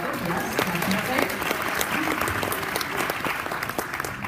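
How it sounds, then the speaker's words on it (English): A dinner audience with astronauts applauds in steady, moderately faint clapping that continues throughout, with murmuring voices mixed in. "somebody applauded, yes, definitely"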